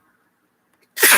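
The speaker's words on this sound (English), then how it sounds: "I feel like I have to sneeze." After near silence, one sudden loud sneeze bursts out at the very end, close and sharp.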